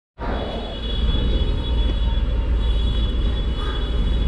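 A Delhi metro train at the Airport Express station rumbles in suddenly and holds a loud, steady low roar with a faint high whine above it, close and continuous.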